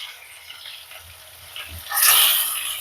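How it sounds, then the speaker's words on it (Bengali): Large snakehead fish pieces sizzling in hot oil in a pan, a soft low crackle that swells into a louder, hissing fry toward the end, close by. "মাছগুলো এরকম ভাবে ভেজে নিচ্ছি বেশ ভালোভাবে"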